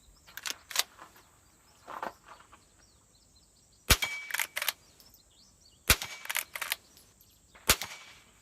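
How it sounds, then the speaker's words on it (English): Marlin .22 Long Rifle fired at an outdoor range, with sharp, cracking shots in quick bursts of two or three and single shots between them, loud against a quiet background. "Go ahead and shoot the old Marlin"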